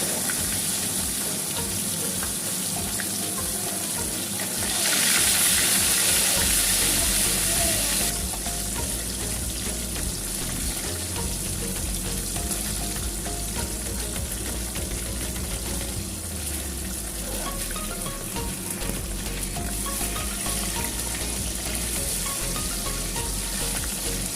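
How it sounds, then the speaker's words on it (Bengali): Rohu or catla fish pieces fry in hot mustard oil in a kadai, giving a steady, close, continuous sizzle with a louder burst partway through and no talking. "কড়াইয়ের মধ্যে সর্ষের তেল দিয়ে নিয়েছি খুব ভালো করে গরম হয়ে যাওয়ার পরে মাছগুলোকে হালকা করে ভেজে নিয়েছি"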